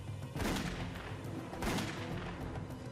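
Two loud gunshot blasts ring out about a second apart in a dramatized reconstruction of a hijacker firing aboard PSA Flight 1771, each followed by a booming reverberant tail.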